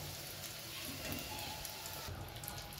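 Onions frying in oil in a pan give off a steady, dense sizzle that runs unbroken throughout, close and moderately loud, with no talking.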